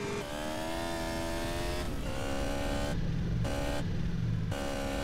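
Motorcycle engine in GTA San Andreas, a steady buzzing drone with rising and shifting tones like gear changes, continuous and fairly close with no talk.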